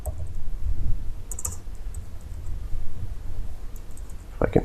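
A few keystrokes on a computer keyboard, tapped while entering text into design software, come as sparse light clicks over a quiet hum, with a small cluster near the end.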